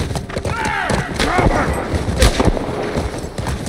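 Gunshots fired at a rider on horseback in a tense confrontation, a dense volley of sharp cracks and bursts under shouting voices, loud and close throughout.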